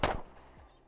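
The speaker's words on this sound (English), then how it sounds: "being able to shoot 2 shots as fast as we can so that the dot returns to the same place" Two sharp pistol shots during shooting practice, close and loud, about a second apart with a brief decaying echo between them.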